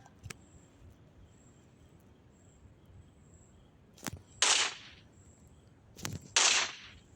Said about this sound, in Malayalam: നമുക്ക് പട്ടാളങ്ങളെ വെടിവെക്കാം.